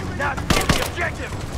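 Gunfire in the Rise of the Tomb Raider video game, two sharp close shots about a fifth of a second apart amid a busy battle bed of background noise.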